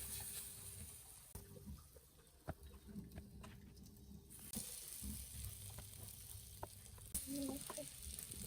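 Bread sizzles and crackles softly in a hot pan, a quiet, continuous frying sound with occasional light clicks and scraping.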